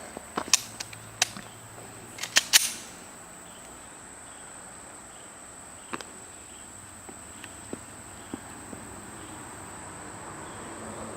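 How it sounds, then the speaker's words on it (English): Sharp Glock 19 pistol shots crack several times in the first few seconds, then a few scattered single shots follow, over a steady outdoor insect drone. "Let me shoot it again and see if I can hit anything."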